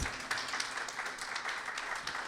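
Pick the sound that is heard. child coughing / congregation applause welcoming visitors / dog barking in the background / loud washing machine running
congregation applause welcoming visitors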